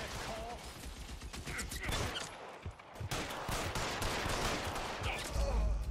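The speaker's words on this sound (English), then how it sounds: "How do you compete with a damn machine gun?" Machine gun fire in the video game L.A. Noire, a dense, continuous rattle of rapid shots with clattering mechanical noise throughout, loud and sustained.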